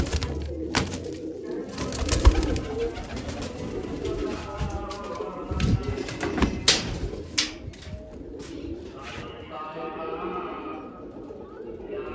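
Pigeons at a home loft coo in low, soft phrases amid rustling, wing flaps and scattered knocks, while someone talks intermittently over them.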